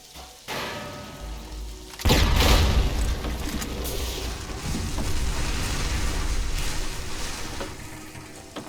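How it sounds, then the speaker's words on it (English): A grenade goes off in Fallout 3 with a heavy boom after a brief thump, then a long rumbling, crackling roar of debris that stays loud for several seconds before easing; no speech. "It looks like an explosion should do the trick."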